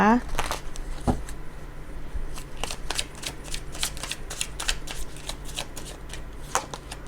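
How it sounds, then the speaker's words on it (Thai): Tarot cards from a Universal Fantasy Tarot deck are shuffled in a steady run of crisp riffles and flicks, close and fairly loud, with a voice talking quietly in the background. "ทีนี้แม่มดจะขอเปิดไพ่ Universal Fantasy Tarot นะคะ"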